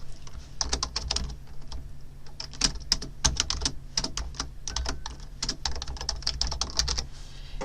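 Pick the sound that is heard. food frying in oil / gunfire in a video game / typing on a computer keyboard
typing on a computer keyboard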